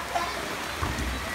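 Steady rain falls outdoors, a soft, even hiss at moderate distance with faint background activity and no clear voices over it.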